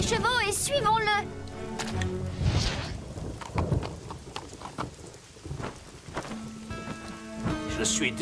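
Steady rain pours down with occasional rumbling thunder, while voices talk over it and bursts of music come and go.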